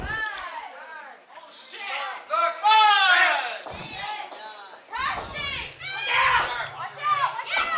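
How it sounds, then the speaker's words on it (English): Children in a small wrestling crowd shout loudly along with the referee's count, in excited overlapping bursts that rise and fall close by. "The crowd trying to get ahead of the count."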